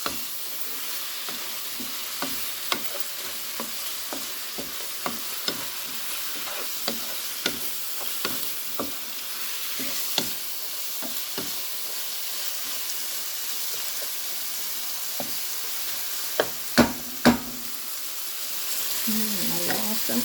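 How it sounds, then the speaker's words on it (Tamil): Biryani ingredients and chicken frying in a pot, a steady soft sizzle with repeated scraping clicks from stirring spread through the whole stretch and a few louder knocks near the end, close and alone. "நல்லா பிரட்டி போட்டு கீப்பையும் மூடி விடணும்."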